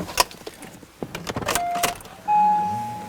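Power side mirror motor on a 2007-2013 Acura MDX whirring in short bursts after a few clicks and taps, ending in a steadier, louder motor hum as the mirror folds.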